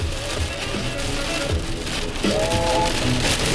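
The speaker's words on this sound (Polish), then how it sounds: "Grzmi, deszcz wali, gruby jak cholera" Heavy rain drums steadily on a motorhome while driving, a dense continuous wash close around the cabin; no clear thunder stands out, and a brief tonal whine rises partway through.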